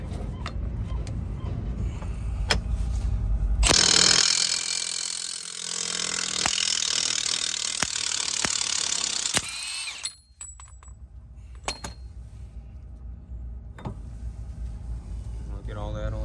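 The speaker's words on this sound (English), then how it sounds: "I've got to remove this nut right here." Work on a 2 1/8 inch nut on a Volvo semi truck gives a burst of loud whirring tool noise lasting several seconds, framed by clanks, metallic knocks and shop sounds, with some talk around it.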